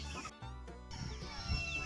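Hens cluck softly in short bursts outdoors, with a bit of background noise and a low thump near the end.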